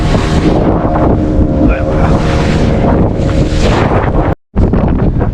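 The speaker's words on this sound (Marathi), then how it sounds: "बोट लिटरली अशी उडून उडून खाली आपटते पाण्यावरती" A boat riding big waves in strong wind off the Malvan coast in Konkan, with loud, steady rushing wind and water roar filling the whole clip and a brief dropout near the end; no distinct slams stand out.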